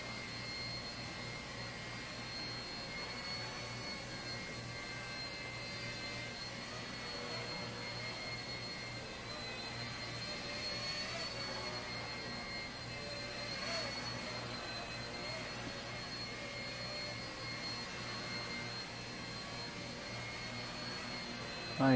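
A Blade 70S micro RC helicopter hovers in flight, giving a faint, steady high-pitched electric whine with constant tonal hum that holds unbroken for over twenty seconds, no voices.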